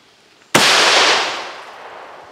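A shotgun fires a giant nail into a TV in one sudden, very loud blast, followed by a long hissing, crackling decay that fades over about two seconds, with no talking.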